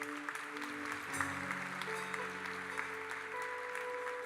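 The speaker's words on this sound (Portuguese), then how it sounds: "Aplauda o Senhor bem forte." A church congregation applauds at a worship service, steady broad clapping held under sustained tones of music or organ-like notes throughout.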